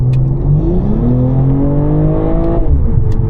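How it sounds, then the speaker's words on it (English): A BMW M340i 50 Jahre Edition engine revs hard under acceleration, pitch climbing steadily through the gear before dropping at a shift, loud and close from inside the car. "it just wants to go, and it stays so high in the rev range before shifting up"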